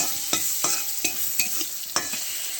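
Brinjal frying in oil in a pan, a steady sizzle broken by a handful of sharp stirring scrapes at irregular intervals, close and moderately loud with no talk.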